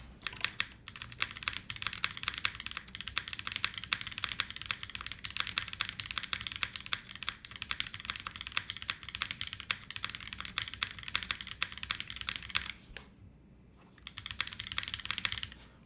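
Typing on a Dymium65 mechanical keyboard fitted with Nixie keycaps, a fast, steady stream of close, crisp key clacks lasting throughout, with a brief lull near the end before typing resumes.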